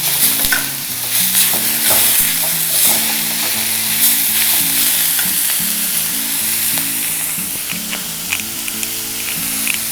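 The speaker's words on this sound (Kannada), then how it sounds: "ಹೀಗೆ ಫ್ರೈ ಮಾಡಿ ತೊಗೊಂಡ್ರೆ ಚೆನ್ನಾಗಿರುತ್ತೆ." Drumstick flowers frying in a pan with tomato, a loud continuous sizzle under repeated scraping strokes of stirring, close up and with no talk.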